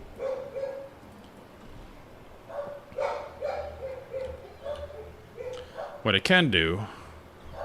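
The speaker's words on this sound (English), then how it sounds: "My dogs are going crazy." Dogs barking and yipping in a home, a few sharp barks scattered through the clip and a louder burst near the end, heard under someone talking over game audio.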